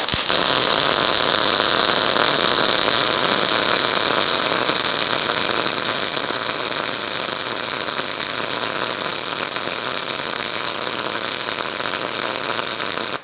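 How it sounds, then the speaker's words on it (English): MIG welding a bead on 1/8 inch metal with a Harbor Freight Titanium Unlimited 140 running 75/25 argon gas, a steady loud hiss and crackle that holds unbroken for the whole stretch, with no voices over it. "We're going to start out by MIGging, and I am feeding it 2575 argon gas. Let's go ahead and strike weld."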